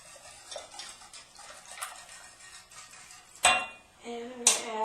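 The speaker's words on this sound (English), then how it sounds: "It gets 4 tablespoons of cornstarch, and so while the mixture is cold, I'm going to add that in. I'm going to mix that in real well." A spoon stirs cornstarch into a cold cake filling mixture, scraping and clinking against a bowl in soft repeated strokes, ending with a few louder metallic knocks.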